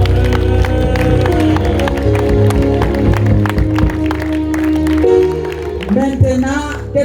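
A church congregation at a New Year's Eve service cheers and applauds in a loud, sustained mass of clapping and voices, with music and singing running underneath.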